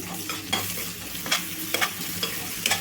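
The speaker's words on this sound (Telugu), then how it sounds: "అల్లం వెల్లుల్లి పేస్ట్ మంచిగా వేగాలి" Ginger garlic paste fries in a pan for paneer butter masala, giving a soft steady sizzle broken by several scraping stirs of a spoon, close and quiet, with no talking.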